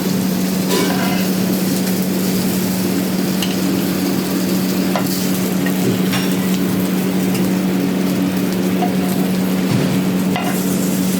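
Fish and mussels frying in oil for Goan seafood give a steady, loud, close sizzle throughout, with occasional scrapes and stirring clatter over a low constant hum.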